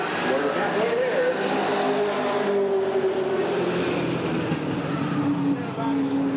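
Street stock race cars, among them a 1971 Chevrolet Nova, roar around an oval track during a trophy dash at Redwood Acres Raceway in 1988, a steady engine drone with shifting pitch, partly under an announcer's voice.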